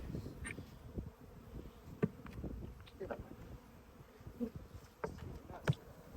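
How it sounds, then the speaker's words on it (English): Honey bees buzz around an opened, long-abandoned hive, a close, faint, continuous drone broken by individual insects zipping past the microphone. "But as you can see, it's a strong hive. These are good bees."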